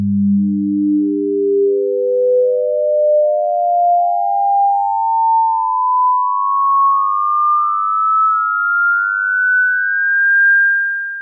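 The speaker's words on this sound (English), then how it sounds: "Let's have a listen to the series again." Pure sine-like tones of the harmonic series sound one after another, each step rising higher and closer together, a smooth continuous ascending sequence at even volume with no voices.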